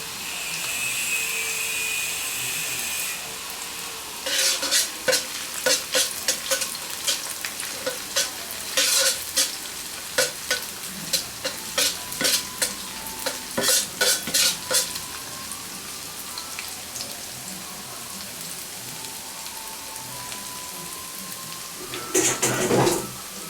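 Garlic frying in oil over low heat, a steady close sizzle with frequent spatula scrapes and stirring clatter in bursts, continuing throughout without speech.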